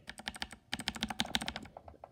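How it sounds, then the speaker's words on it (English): Unlubed blue mechanical keyboard switches typed in quick bursts, each keystroke a sharp, bright click, close and loud, with a short pause between two runs of rapid keypresses and softer presses trailing off at the end. "how a non-lube optimu blue switch sounds like"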